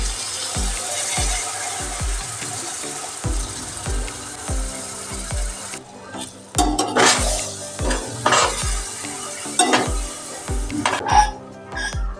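Milk poured over ghee-fried dry fruits in a pan, followed by repeated metal spoon scrapes and clinks against the pan in a regular rhythm, close and clear with a soft sizzle underneath.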